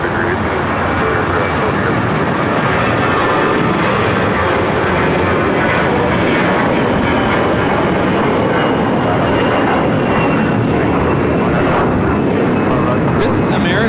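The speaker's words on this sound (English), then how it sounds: "This is American Airlines 2091 taking off to Dallas Fort Worth on the A321." An American Airlines Airbus A321 bound for Dallas-Fort Worth takes off at LAX, its engines producing a loud, sustained roar with a faint whining tone that carries steadily throughout, as people talk beneath it.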